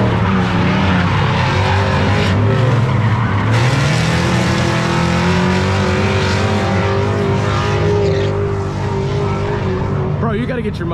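A Mustang drift car's engine roars loudly and continuously while its tires screech and skid on a drift track, with a voice talking over the noise.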